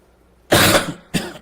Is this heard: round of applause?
no